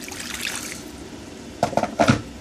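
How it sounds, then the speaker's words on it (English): Hot water pours from a kettle into a pot in short splashy bursts, a quiet trickle first, then a couple of louder gushes near the end. "Just going to use some of the hot water from the kettle"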